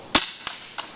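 An air rifle fires a field target shot: a sharp close crack, then a fainter click as the pellet strikes the knockdown target, and a third faint tick shortly after, with no talking.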